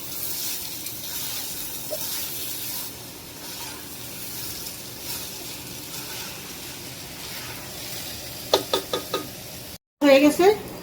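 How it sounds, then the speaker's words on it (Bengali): Kalijira rice frying in a pan for biryani, with a steady close sizzle and quiet stirring under it, then a few quick knocks of a utensil near the end before a brief cut and louder scraping. "চালটা সুন্দর করে ভেজে নিব।"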